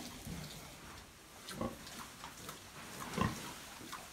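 A young boar grunts softly on a farm. Two or three faint, short grunts rise out of a quiet background, with no talking.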